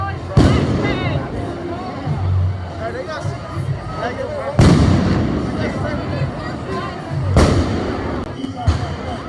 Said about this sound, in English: They're throwing flashbangs.